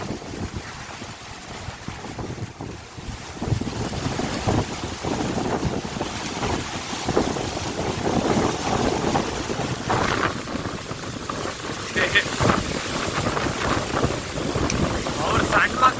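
Strong gusting wind roars across an open industrial cricket ground at Sira during a dust storm, a continuous rough rush that swells louder after the first few seconds and keeps buffeting.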